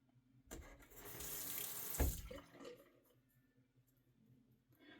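Water pours from a tap onto shaving lather, a loud rushing splash lasting about two seconds with a sharp thump in the middle, then fading into faint trickling.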